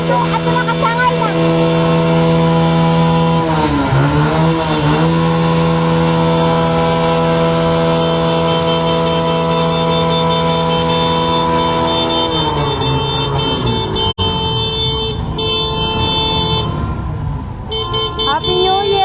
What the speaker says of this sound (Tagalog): Paandaran motor ko.